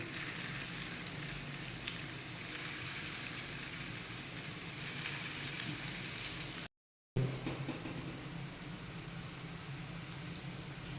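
Steady, dense sizzling of bread frying in hot ghee and oil, continuous and close, briefly cutting out near the end before resuming.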